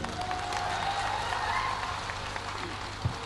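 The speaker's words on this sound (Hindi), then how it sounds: "हमारी पूरी टीम की तरफ से आप लोगों के लिए जोरदार तालियां।" Applause rises from a concert audience in a ghazal singing pandal. The clapping is fairly dense and distant and holds steady under a sustained tonal layer, with a brief thump near the end.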